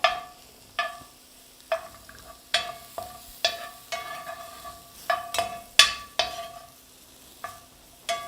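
Seafood being stirred in a pan with butter and olive oil: a faint, steady sizzle broken by a series of sharp metallic utensil clinks and scrapes at an irregular rhythm, with no talk.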